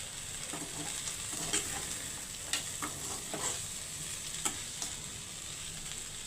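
Okra fry with peanuts and fried urad dal being stirred in a pan, a soft sizzle under repeated scraping and clinking strokes of a spoon.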